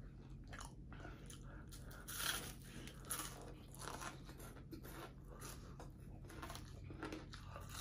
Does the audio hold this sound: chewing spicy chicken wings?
yes